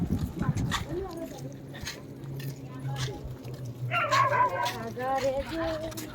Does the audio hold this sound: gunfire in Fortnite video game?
no